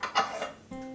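A lid set onto a cooking pot of Bengali veg mutton curry, a couple of quick soft metallic clinks and a brief rattle up close, then a low steady simmer hum, fairly quiet.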